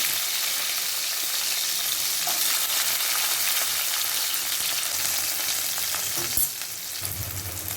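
Garlic and a handful of small sambar onions fry in a pan, a steady close, loud broadband sizzle running unbroken with a few faint clinks and a brief knock near the end.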